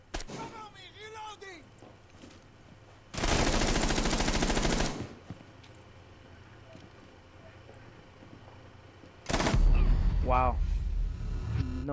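Two loud sustained bursts of automatic gunfire in Rainbow Six Siege, each lasting a couple of seconds, separated by quieter ambient game sound with chirping tones and a player's voice.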